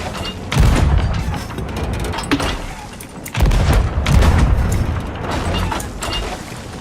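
Deep booming cannon blasts from the video game Sea of Thieves recur, two heavy thuds standing out amid a dense, rumbling wash of explosions and clatter.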